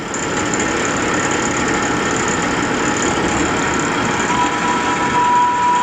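A CNC turret machine spindle spinning up toward 2500 RPM, giving a steady, loud mechanical whir with a faint rising tone near the end and no talk.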